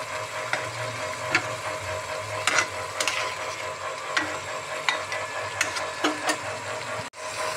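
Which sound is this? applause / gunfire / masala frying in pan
masala frying in pan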